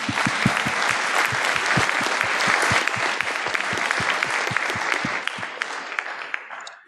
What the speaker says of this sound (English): let's give a good big round of applause